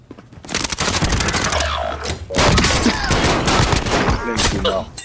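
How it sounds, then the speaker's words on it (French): Dense gunfire in Call of Duty: Warzone, including a .357 Magnum: rapid overlapping shots and cracks in loud close bursts, with a short pause partway through. "j'essuie des tirs"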